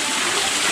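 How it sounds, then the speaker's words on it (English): Waterfall in an underground river, a steady loud rush of splashing water filling the whole brief moment, close by and with no voices. "There's another waterfall to hit you in the head."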